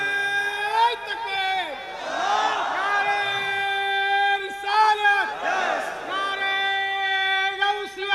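Large crowd at an outdoor Islamic waz sermon shouting takbir in unison, several loud swelling collective calls in succession, strong and close.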